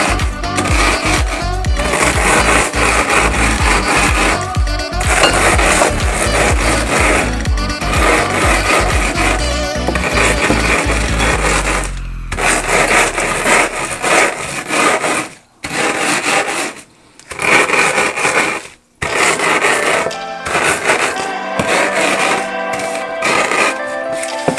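Cornflakes are crushed inside a plastic bag with a wooden chapati rolling pin, giving a dense stream of loud rasping crunches and rubs that stay steady, then break into short bursts with brief pauses near the end.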